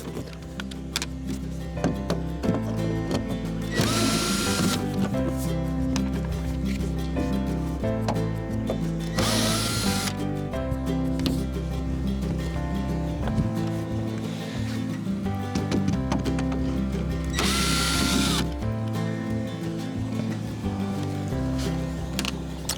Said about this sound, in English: So let's just take off these screws and see what we've got.